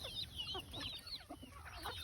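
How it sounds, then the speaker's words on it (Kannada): Free-range native hens cluck continuously while pecking at sprouted grain on a farm, their chatter close and steady with overlapping short calls. "ನಮ್ಮ ಕೋಳಿಗಳೆಲ್ಲ ಯಾವ ರೀತಿ ತಿಂತಿದೆ ಅಂತ ನೋಡಿ"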